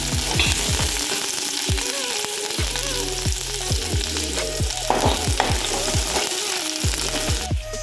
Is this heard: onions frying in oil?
yes